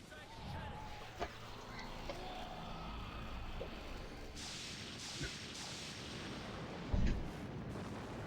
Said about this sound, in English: Divine Dragon Cannon.